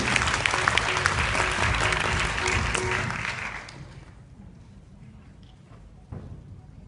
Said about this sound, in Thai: ขอ เสียงปรบมือต้อนรับผู้บริหารระดับมรกตคุณธันวลัยศรีคำ